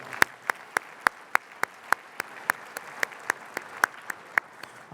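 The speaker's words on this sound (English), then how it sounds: "So why do you give yourself a big hand of applause?" Crisp handclaps at a luncheon keynote event land in an even, steady rhythm about four per second, sharp and separate against a quiet room rather than a dense roar.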